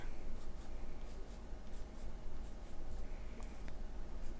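Pencil or pen steadily scratching across paper while sketching a Venus flytrap with spiky points, a soft continuous rasp with short strokes, close and fairly quiet, no voices.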